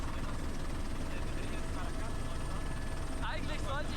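A helicopter flies over an island with a constant, dense rotor and engine drone, while voices talk over the noise.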